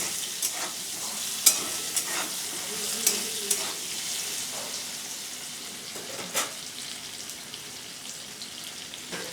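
Boiled elephant foot yam and potatoes frying together in a pan, a steady close sizzle with occasional sharper crackles and stirring scrapes, no talking over it.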